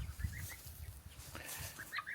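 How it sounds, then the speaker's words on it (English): Little young roosters cluck and chirp in short, scattered calls close by in a farmyard, mingled with soft low clucks over a quiet background. "Those are all little roosters."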